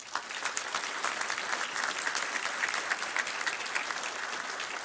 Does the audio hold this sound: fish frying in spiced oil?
no